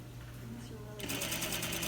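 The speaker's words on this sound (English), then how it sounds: "it's pretty hard to sew crooked with the teeth inside the tunnel." A sewing machine stitches an invisible zipper, its rapid mechanical chatter starting about halfway through and running steadily after a quieter stretch with a low hum.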